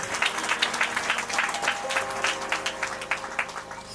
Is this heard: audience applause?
yes